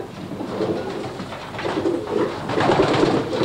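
Young pigeons cooing steadily in a loft section in Ulster, soft low burbling calls overlapping close by with a faint hum of background noise.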